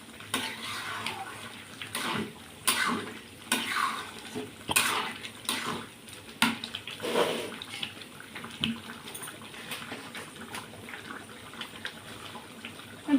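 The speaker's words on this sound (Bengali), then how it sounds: "সুন্দর করে নেড়ে মিশিয়ে নেব।" A pot of thin mango khichuri is stirred after the final spices go in, wet sloshing and scraping strokes coming in uneven bursts, close by, with faint clinks of the spoon against the pot.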